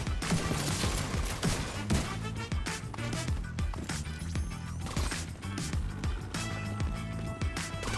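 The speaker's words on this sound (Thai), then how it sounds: "ช็อตกัน สกอร์ปิโอ ปืนที่มีพละกำลังในการยิง" Rapid Scorpio shotgun blasts in Division 2 gameplay, loud and dense, with repeated sharp reports over a continuous layer of music and combat noise.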